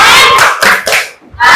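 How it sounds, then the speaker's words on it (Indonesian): A group claps together in a classroom, a short burst of applause that fades briefly, then picks up again at the end. "Kasih tepukan keren lagi."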